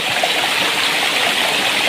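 A small waterfall fed by water flowing down from a mountain after rain, a steady close rushing splash with no break.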